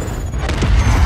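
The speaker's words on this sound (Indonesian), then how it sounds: "Levi hampir terkena ledakan." A deep, booming explosion in an action film about two snipers near a ravine where a helicopter crashes, a short loud blast with a heavy low rumble.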